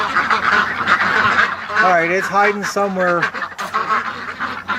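Ducks quacking and honking at night in a backyard pen under a flashlight, a loud cluster of overlapping nasal calls close by, with someone talking over them.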